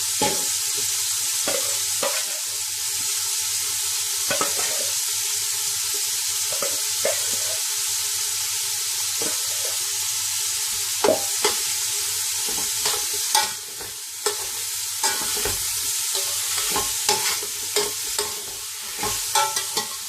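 Prawns fry in a pan for biryani, giving a continuous oily sizzle that runs throughout, broken by repeated scraping and clattering as they are stirred gently.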